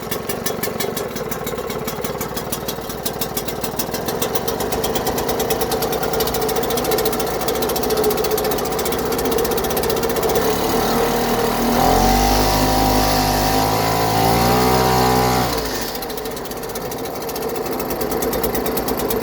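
Small Seagull 4 HP outboard motor running steadily with a dense, buzzy mechanical chatter, shifting in pitch and load partway through as it is put in and out of gear, loud and close throughout.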